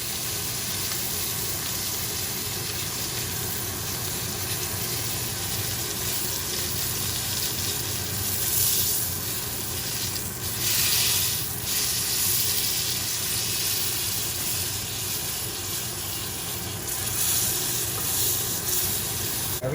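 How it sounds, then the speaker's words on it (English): Meat searing in a hot pan with fat, a steady close sizzle and hiss running continuously, with a few brief louder crackling swells. "you wanna like start searing all the sides once the second side is done"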